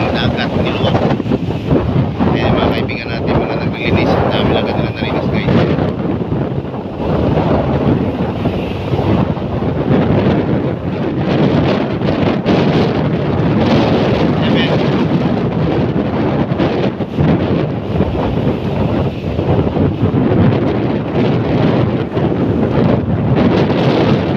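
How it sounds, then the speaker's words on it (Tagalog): Strong typhoon wind at Manila Bay buffets the microphone nonstop, a loud roaring rush with gusty rumble throughout and no clear pauses. "good morning Manila Bay at ang hangin"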